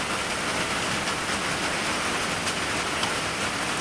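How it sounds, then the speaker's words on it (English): Rain falling outside a front porch, a steady even hiss of downpour at moderate level with no pauses and no voices over it. "Oh, rain's coming down, eh?"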